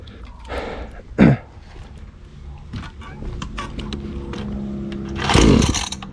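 A 49cc mini dirt bike engine runs with a steady buzzing drone, revving up louder near the end, with people talking close by over it.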